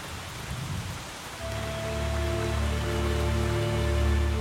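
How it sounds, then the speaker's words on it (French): Heavy rain falls without a break during a prolonged flood, forming a loud, continuous wash of noise. A low, steady rumble that swells and recedes builds in partway through. "Il pleut sans discontinuer depuis 6 jours."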